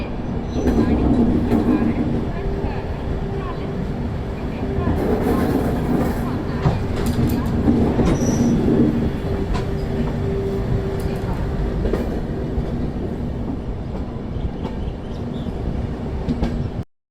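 At the Ambala Cantt junction platform in Punjab, a train makes a loud, steady rumble with rolling clatter and hiss throughout, close by, while voices murmur faintly in the background.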